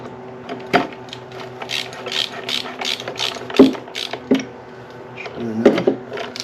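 A screw is driven into an Opel engine with a series of sharp ratcheting clicks and metallic ticks at an uneven rhythm, close up and fairly quiet.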